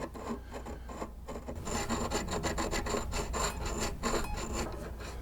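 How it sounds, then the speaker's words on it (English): A diamond abrasive file rasps back and forth across a guitar fret to level it, a continuous close scraping with quick repeated strokes and no talk. "We're going to come in here with this diamond abrasive and hit the top of this fret, level it to these 2."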